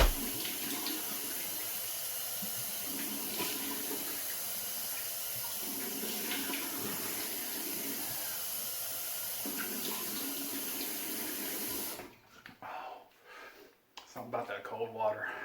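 A bathroom tap runs cold water steadily into a sink after a hot shave, a continuous close hiss lasting about twelve seconds before cutting off, followed by quieter movement and brief sounds.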